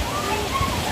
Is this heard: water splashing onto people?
yes